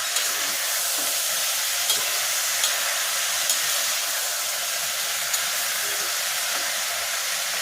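Brinjal and vegetables for chorchori frying in a pan, a steady soft sizzle and hiss throughout with faint clicks of stirring, no talking.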